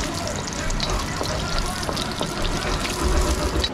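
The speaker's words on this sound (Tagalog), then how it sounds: "Gisa muna tayo para sa ating paksiw na litson." Ginger sautéing in a pan for lechon paksiw, a short stretch of soft, close sizzling with light stirring and watery crackle.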